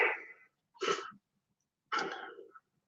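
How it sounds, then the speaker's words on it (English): A person sneezes and clears the throat in three short, close bursts with silence between them, fairly quiet overall. "Now I'm going to sneeze."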